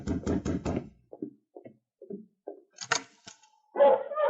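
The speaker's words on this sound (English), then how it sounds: "A moment later, someone knocked on the door." Someone raps on a wooden cabin door in the Yukon for an old radio drama: about four separate, close knocks spaced at a slow, uneven pace. A brief voice comes before them, and a short voice or sound follows.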